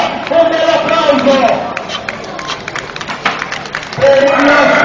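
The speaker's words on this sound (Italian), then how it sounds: "un bel applauso" Crowd at an outdoor strongman competition in Pontedera clapping for an athlete, scattered applause and cheering under a loud announcer talking over a PA.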